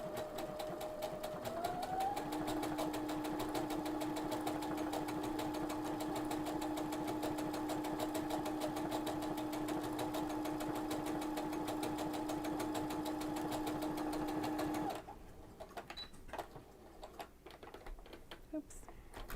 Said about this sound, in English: So we're gonna go ahead and stitch and I'll show you how it makes the actual fringe part.